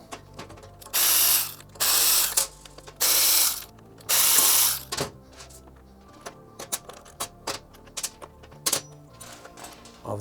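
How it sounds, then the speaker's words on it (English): Close, crisp clicks from a 4mm Allen ratchet loosening the fasteners on a 2022+ Yamaha R7 turn signal assembly. Four loud bursts of rapid ratcheting come in a regular rhythm, followed by scattered softer clicks and handling noises. "Using that 4mm Allen, I will remove these 4 fasteners that'll split all these parts apart."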